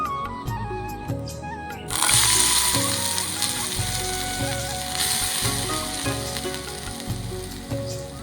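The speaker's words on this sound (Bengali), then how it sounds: "এবার সাবুটা ভেজে নিচ্ছি।" Sago pearls frying in a pan give a bright, continuous sizzle that swells sharply after a quieter start, with a rhythmic low thumping and faint tonal music running underneath.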